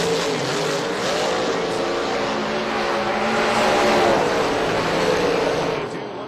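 A drag racing car, a PD Small Block machine, runs down the track at an elimination event, its engine a loud, sustained roar that swells midway and fades slightly near the end, under a commentator's voice.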